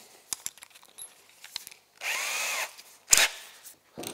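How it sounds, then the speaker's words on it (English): Steel rivets are set into snowmobile ski skins on a Ski-Doo Elan: scattered sharp taps and clicks, a short whirring burst of a power tool, then a loud snap and a few more clicks, all close and fairly quiet. "I'm gonna install a couple of rivets to hold that into place."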